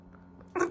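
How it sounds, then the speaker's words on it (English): A dog gives one short, sudden bark or yelp at the very end, after near-silence, at a moderate volume. "That's my dog, Bella."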